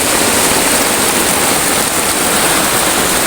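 Heavy rain pours down steadily at a jungle campsite, a dense, loud, unbroken hiss with no other sounds standing out.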